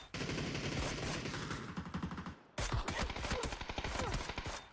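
Rapid bursts of gunfire crackle through a shooter video game match, dense and close, broken by a brief gap before another string of sharp shots.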